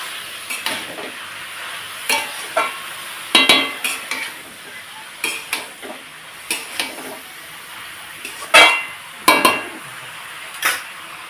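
A utensil stirs salt into a bottle gourd and fish head curry in a pan, making repeated scraping strokes and metallic clinks over a quiet sizzle, irregular and close, without speech.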